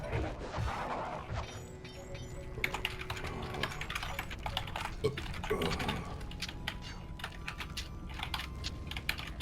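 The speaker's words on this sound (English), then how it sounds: "I'm just typing because I feel like it." Typing on a computer keyboard, a steady run of quick, uneven key clicks fairly close by, with occasional sharper clacks and some game sounds underneath.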